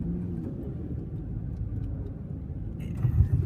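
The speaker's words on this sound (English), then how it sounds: "I'm going to give it full throttle, and then we're going to brake pretty hard" A Toyota RAV4 on a slippery indoor ride-and-drive track at an auto show, with a steady low engine rumble under full throttle that swells near the end into a heavier, louder surge as hard braking kicks in.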